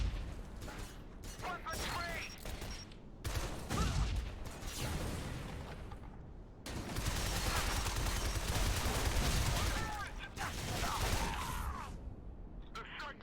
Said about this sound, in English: just plant the grenade